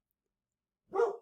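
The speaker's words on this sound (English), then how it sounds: "that's my dog" A single short dog bark bursts out near and fairly loud after about a second of silence, an angry outburst from a dog reacting to people walking past an apartment.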